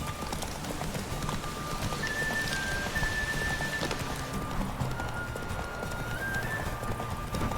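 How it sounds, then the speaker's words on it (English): Horse galloping flat out in a race in The Witcher 3, a quick steady clip-clop of hooves under a constant rain-like wash, with thin high tones drifting in and out. "Horse races in the dark."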